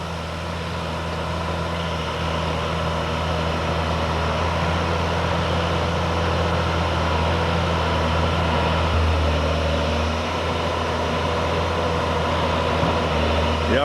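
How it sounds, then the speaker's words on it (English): TimberPro TF820 log loader in a mill yard, its engine held at low RPM, gives a steady, loud, close diesel drone with a deep low hum that runs unbroken throughout. "I like the way he keeps that engine at lower RPM"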